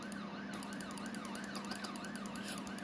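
Police car siren wailing in a steady, repeating up-and-down sweep during a video game car chase, loud and continuous with engine-like hum underneath and no talk.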